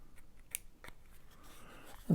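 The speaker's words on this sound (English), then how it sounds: "take your scissors and just follow the curve and just trim them around" Scissors trim the rounded corners of a mosaic-effect yin yang craft coaster with a few sharp, close snips at an uneven pace, and a voice comes in at the end.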